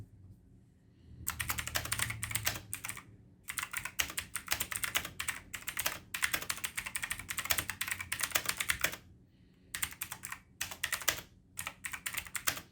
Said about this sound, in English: Mechanical Keyboard is a 104 keys blue switch keyboard